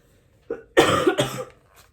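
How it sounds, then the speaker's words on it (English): A couple of close, harsh coughs in quick succession after a brief throat sound, then quiet. "Sorry for the coughing, guys."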